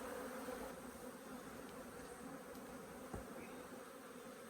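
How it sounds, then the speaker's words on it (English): Honey bees buzzing in a crowded hive colony, a steady dense drone that holds evenly throughout, close and fairly quiet with no voices. "So there's plenty of bees in this colony."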